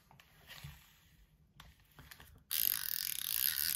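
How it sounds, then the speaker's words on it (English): Ratcheting clicks from the brake clicker on an Abu Garcia Zenon fishing reel, first faint and sparse, then a loud, dense buzz of rapid clicking as the mechanism spins up close. "You now have a brake clicker. Let me play off with this."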